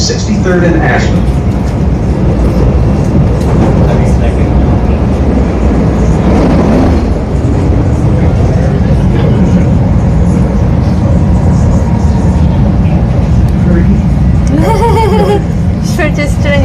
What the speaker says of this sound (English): This is a Green Line train to 63rd and Ashland.